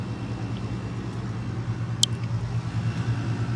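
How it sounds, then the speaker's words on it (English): A concrete pump truck pulls away from a construction site with a steady, low diesel rumble at moderate distance, a brief sharp click cutting through partway; no one talks. "There goes the pump truck."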